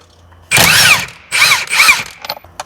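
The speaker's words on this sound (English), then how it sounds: "Now I can remove the steering wheel with a 16mm socket" A power tool fitted with a 16mm socket runs in three short, loud whirring bursts, spinning out the steering wheel bolt on a BMW 650i, with quick rattling clicks trailing after.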